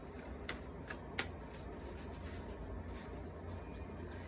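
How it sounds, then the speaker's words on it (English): Tarot cards being shuffled by hand in a quiet room, a continuous soft riffling and rubbing texture with a few sharper card snaps near the start, fairly close and low in level, with no talking. "My shuffling is good some days and some days is bad."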